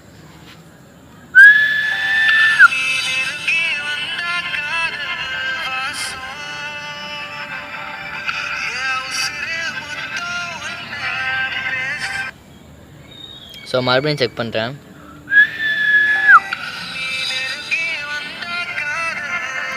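A person whistles to set off a whistle-activated phone-finder app. Sharp rising whistle notes come at the start and near the end, with bright tonal sounds running between them, and someone speaks briefly in Tamil.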